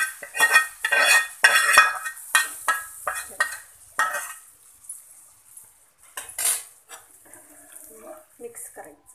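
A spoon stirs tadka tempering into cooked dal in a metal pan, giving a rapid series of close, clattering scrapes and clinks that thin out into softer, sparse taps.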